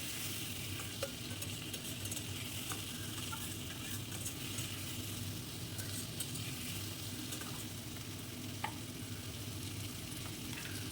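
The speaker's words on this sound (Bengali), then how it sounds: "এই আমগুলোকে আমি দিয়ে দিলাম কড়াইয়ে এবার হালকা নাড়াচাড়া করে নেব" Mango pieces are stirred in a wok for sweet-sour mango chutney, with a faint continuous sizzle and occasional light scrapes of the spoon against the pan, no voices.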